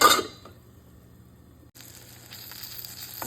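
Shishito peppers sizzle in a pan with salt and light soy sauce: a brief loud clatter at first, then a quiet lull before a steady frying hiss resumes, with no voices.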